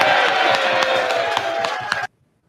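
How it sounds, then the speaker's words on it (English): Locker room full of football players cheering and clapping together, a dense, steady roar of whoops and claps with sharp clap spikes, loud and close, cutting off abruptly near the end. "It sounds like there's a locker room full of guys that are happy with their coach"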